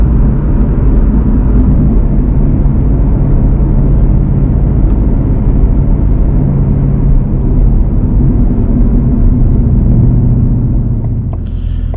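A 2023 Ford Mustang Mach 1 V8 at night, its engine and exhaust giving a steady, loud, close low rumble that holds even throughout, with no one speaking.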